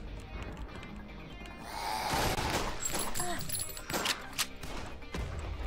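A shotgun in an anime roguelike FPS discharges all five shots at once, a dense, loud burst of overlapping blasts and crunching impacts that holds for a few seconds before tapering into scattered thuds.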